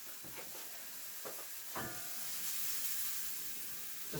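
Onions frying in a pan for hummus preparation, a soft steady hiss and sizzle with a few scraping knocks early on, fairly quiet.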